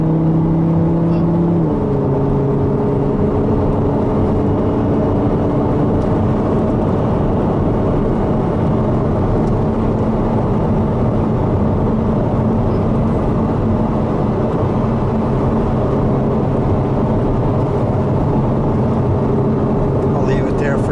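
Audi R8 cruising in sport mode, its engine holding a steady loud drone with a clear tone drop as the automatic gearbox shifts near the start, amid road and cabin noise.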